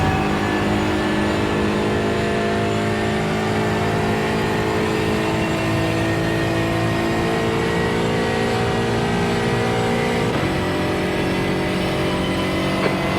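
An Aston Martin Vantage GT4 engine in a racing video game holds a loud, steady, sustained drone at high speed, with only a brief pitch dip near the end and no voices.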